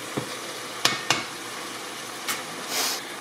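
Pork browns in a pan over medium-high heat, making a steady soft sizzle broken by a few clicks of the utensil and a brief louder hiss near the end.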